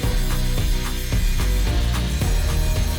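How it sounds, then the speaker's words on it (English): A ratchet strap clicks repeatedly as it is tightened to pull a leg of an Audi RS3 body during welding repair work, loud and close, with a steady mechanical ratcheting rhythm. "we pull the leg with the ratchet strap to the other one so we can control the amount of movement"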